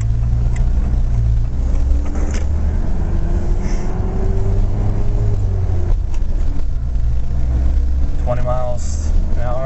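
A manual transmission car pulls away from a full stop, its engine rumbling steadily with a rising tone as it builds revs under continuous in-car noise, while a person talks over it.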